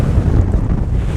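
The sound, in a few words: wind blowing into microphone outdoors while fly fishing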